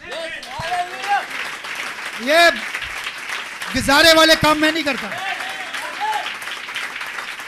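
Applause from an audience runs under someone speaking loudly, swelling briefly in a couple of bursts.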